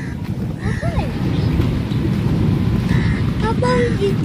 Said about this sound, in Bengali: বৃষ্টি কিন্তু জোরে আসতেছে।